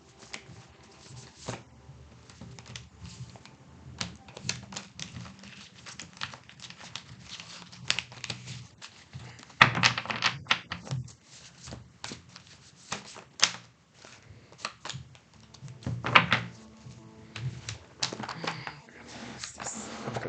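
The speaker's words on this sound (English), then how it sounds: "Let me get some more cards here." Tarot cards are drawn and shuffled close by, making a steady run of papery flicks, riffles and soft snaps with occasional louder slaps of the deck. No voices are heard.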